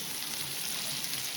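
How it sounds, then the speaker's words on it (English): Onions fry in rendered spare rib fat in a pan at a campsite, giving a steady, close, continuous sizzle and crackle with no voices over it. "Onion caramelizing in the pan, just cooking in the fat of the spare ribs."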